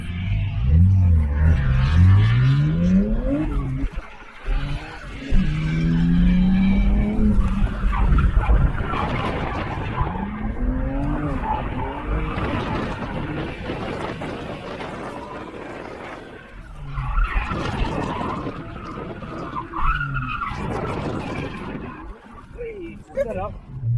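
BMW E92 335i drifting: the engine roars and rises and falls in pitch while the tires squeal in long skids, loud and close, with people talking over it.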